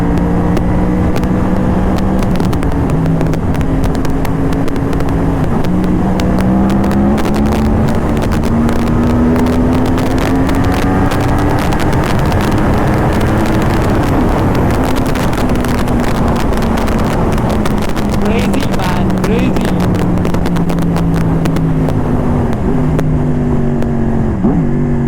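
A Yamaha R1 cross-plane motorcycle with a Toce exhaust on a ride along a bumpy road, its engine droning loudly with rising and falling revs and gear changes under constant wind rush.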